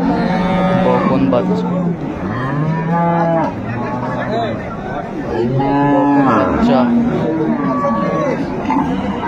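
Dairy cows and calves of an improved breed moo repeatedly at the Ambari cattle market in Dinajpur. The long, loud, close lows come one after another over a low murmur of market chatter.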